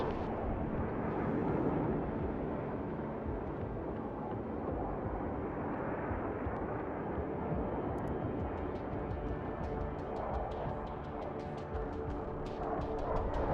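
Airstrike bombs explode in the Broken Arrow video game, a dense, roaring wall of blasts and rumble that sustains throughout, with sharp crackling debris snaps breaking through in the later part.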